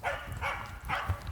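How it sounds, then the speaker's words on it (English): A small dog, a Border Collie named Grace, gives three quick close barks or yips in even rhythm, outdoors in woods. "Look at little doggy."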